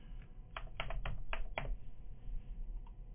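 Fingers tap out a short burst of clicks on a computer keyboard, a quick cluster of crisp keystrokes with one stray tap after a pause, close and fairly quiet against a low room hum.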